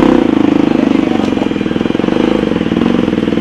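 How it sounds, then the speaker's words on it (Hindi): Motorcycle engine idling steadily at close range with a continuous low throb and slight mechanical clatter, no talk over it, as the bike is pulled aside and parked at a crowded Holi fair. "पहले बाइक लगाते हैं साइड पे कहीं पे"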